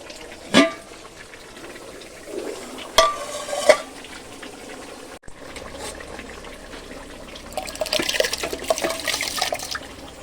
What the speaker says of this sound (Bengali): এই যে দেখো চালটা ধুয়ে পরিষ্কার করে রেখেছি